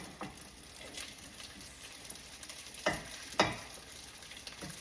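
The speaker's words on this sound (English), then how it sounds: "You hear that sizzle?" Rice fries in a pan with avocado and sesame oil, a quiet steady sizzle punctuated by a few sharper stirring scrapes, close and soft with no talking.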